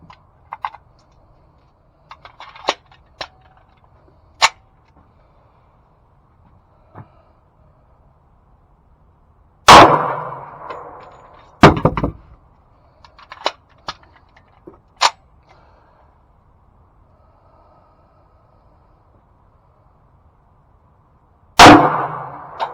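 Several sharp, loud gunshot reports from a Para Ordnance 1911 pistol firing Winchester White Box FMJ rounds, spaced irregularly with long quiet gaps and small clicks and clatter in between.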